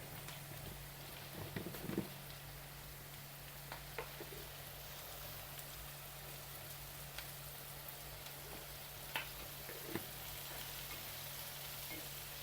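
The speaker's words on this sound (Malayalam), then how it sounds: "ഇനി ഇത് നല്ല മൊരിയണമെന്ന് പറഞ്ഞാൽ പച്ചമണം തക്കാളിയുടെ മാറി കിട്ടണേ" Tomato masala frying in a pan, a soft continuous sizzle and crackle with a few sharper pops, faint and steady throughout with no talking.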